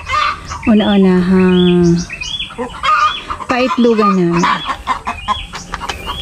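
Pet chickens in their coop at a backyard home: loud, close, drawn-out clucking and crowing-like calls in several bursts, mixed with someone talking nearby.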